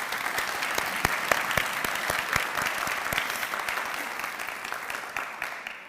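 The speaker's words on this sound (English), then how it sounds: "Let's give our graduates one more round of applause." Audience applause at a graduation pinning ceremony for education graduates, steady clapping from many hands sustained for the full stretch with sharp individual claps standing out, fairly close and alone without talk.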